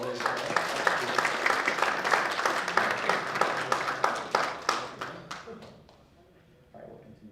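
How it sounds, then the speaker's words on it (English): A room of people gives a round of applause for a judge panel at a hackathon's final presentations; the clapping is moderate and fairly close, thinning into scattered claps before dying away, with a voice briefly heard at the end. "another round of applause for our judge panel here today"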